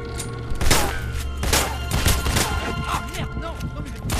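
Rapid bursts of video game gunfire from Wanted: Weapons of Fate, loud and close, with repeated volleys and shots cracking across the scene over a low rumble.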